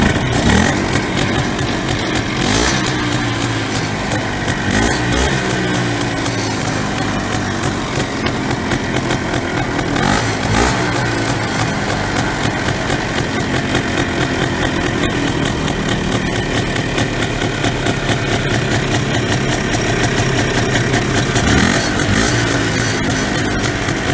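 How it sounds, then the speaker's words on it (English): A cheap four-wheeler ATV engine running steadily, a loud buzzing drone with a constant rhythmic putter and no talk over it. "got the four-wheeler here. The nice thing about this one is it actually runs."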